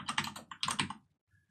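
A computer keyboard typing a command in a rapid burst of close, clattering keystrokes, a brief pause, then another flurry ending in quiet, with no talking.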